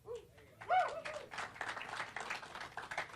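Brief round of clapping from a few people in a podcast studio, starting loud then continuing as scattered claps with light chatter and laughter mixed in.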